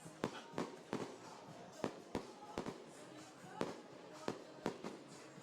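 Fireworks finale at the 2015 World Cup men's open final, Australia v New Zealand: a rapid series of sharp, distant booms and crackles at uneven intervals over a steady outdoor background.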